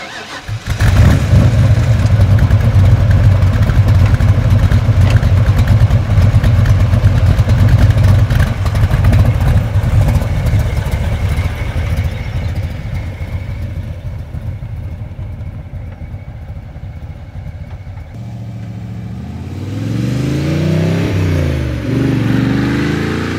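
A 1972 De Tomaso Pantera with a 5.8-litre 350 hp V8 starts up and revs hard, a loud, close, rumbling roar that gradually eases back before a final rising throttle blip.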